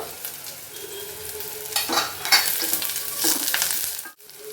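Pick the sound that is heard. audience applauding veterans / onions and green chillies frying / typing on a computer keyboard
onions and green chillies frying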